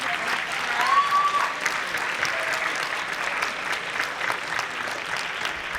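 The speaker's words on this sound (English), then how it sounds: "Round of applause for the help that they've done" Sustained applause from an audience at a high school mock presidential debate, a broad wash of clapping at moderate level, with a brief whistle-like tone near the start.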